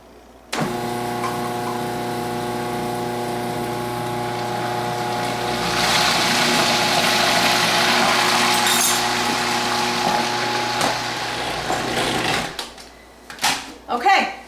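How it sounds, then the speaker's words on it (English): A food processor runs while mixing pizza dough, a steady motor whir with tonal hum that starts abruptly, grows louder midway, then cuts off near the end, followed by a few clatters. "we're going to add it all at once with the food processor running"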